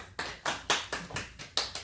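Congregation at a Baptist church doctrine class clapping in a steady rhythm, about eight evenly spaced claps, fairly quiet and alone.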